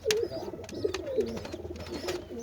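Giribaz pigeons, a flying breed kept for racing, coo nearby in soft, low, warbling calls that repeat over a faint background hum.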